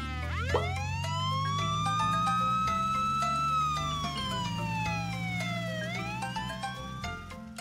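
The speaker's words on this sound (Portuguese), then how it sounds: "Um carro de polícia." A police car siren wails in long, slow rising and falling sweeps, loud and near, over a steady low vehicle rumble, with no talking.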